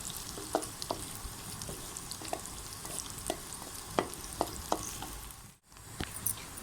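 Onions fry lightly in a pan with a soft, steady sizzle, and occasional stirring scrapes and clicks stand out close by.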